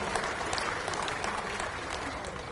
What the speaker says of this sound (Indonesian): Kita berikan aplaus kepada Pak Agus